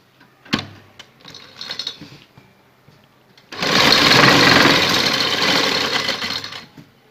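A sewing machine stitches a lace neckline: a few short bursts and a brief whirring run early on, then a long, loud continuous run of rapid stitching for about three seconds before stopping.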